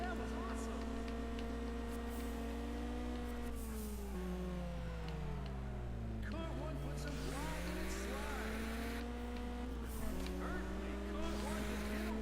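Engine roar from cars racing in the Juiced 2: Hot Import Nights video game, a continuous loud drone with revs that rise and fall as gears shift, steady throughout.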